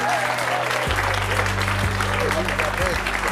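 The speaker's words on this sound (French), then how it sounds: "je vous demande de l'applaudir" A studio audience on a French talk show applauds a magician guest as she arrives, a dense, steady clapping that fills the space, with a low hum underneath.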